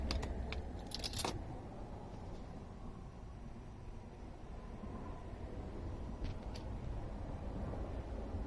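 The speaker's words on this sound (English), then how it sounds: "Put the keys back in." Keys jangle briefly near the start as they go into the ignition of a 1989 Winnebago SuperChief RV, a short metallic clatter followed by quiet background hiss.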